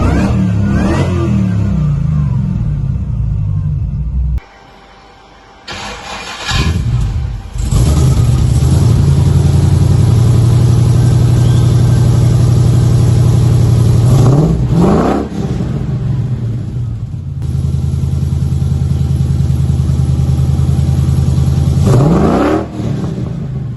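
A heavy American car engine starts up, then revs repeatedly in long, loud, close pulls with falling drops between them, alone with no talk.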